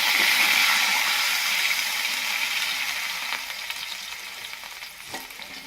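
Water from boiled raw mango poured into a hot tempering with turmeric for mango chutney bursts into a loud, close hissing sizzle that gradually subsides, with a few faint clinks.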